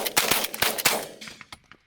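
A rapid string of shotgun blasts rings out during a pigeon hunt in Pennsylvania, loud, close reports fading into quieter echoing shots.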